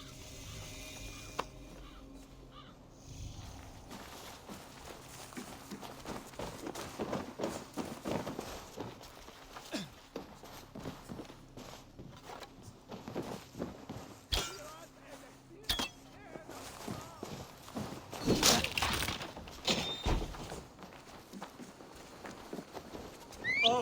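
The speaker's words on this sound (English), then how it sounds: "Basim, Eivor, to horse!" Horse hooves clip-clopping and galloping in Assassin's Creed Valhalla, rising and falling in bursts over game music and ambience, with voices speaking at times.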